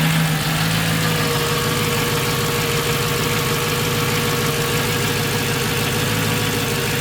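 A Mercedes C55 AMG V8 idles steadily with a fresh set of spark plugs and coil packs fitted. It makes a continuous, even, loud rumble with a slightly uneven, ticking texture and no talk over it.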